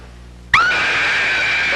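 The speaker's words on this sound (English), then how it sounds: "I can scream quite loudly." A woman lets out a sudden, piercing scream that starts abruptly after a quiet moment and holds at full volume, sustained and close.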